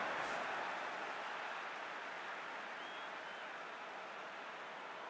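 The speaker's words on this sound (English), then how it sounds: "We have a hugely expectant crowd here." A stadium crowd roars in a FIFA World Cup video game before a Colombia versus Poland match, as a continuous, even wash of cheering and applause that fades slightly over several seconds, with no speech.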